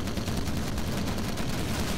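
Dense, continuous machine gun fire rattles from a bomber's guns in the Call of Duty: United Offensive flight over the English Channel, a loud, unbroken stream of rapid shots with no pauses.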